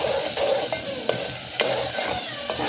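Masala spices sizzle as they roast in a pan for a village-style chickpea curry, with a steady crackle and a spoon scraping and stirring in irregular knocks.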